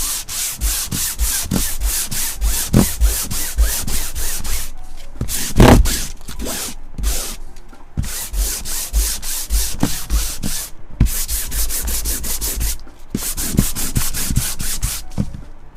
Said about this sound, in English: This is 220 grit sandpaper, and then I've got another one here. This is like a 100 grit sandpaper